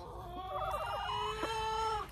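Backyard coop chicken clucking and crooning close by, a steady run of throaty, overlapping calls over two seconds with no talking.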